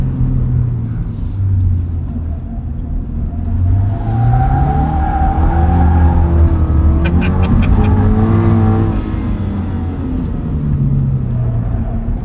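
A 2022 Subaru BRZ engine revs up and down loudly as the car slides around a rally track, with tire noise rising and falling over several seconds.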